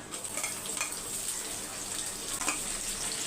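Curry leaves and onion sizzle in a hot oil pan, a steady, close hiss and crackle with brief sharper pops, no voices.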